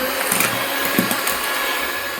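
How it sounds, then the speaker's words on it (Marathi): Sugar and eggs for a sponge cake batter are beaten together in a bowl, a dense steady whirring churn that stays loud and unbroken throughout, with no voices. "तर आता मी साखर, अंडी आता हे एकदा फेटून घेते 1 मिनिट."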